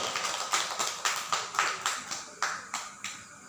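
An audience at a seminar claps to welcome a speaker. The clapping is sparse and uneven, with distinct separate claps landing roughly every half second, moderately close and unaccompanied by talk.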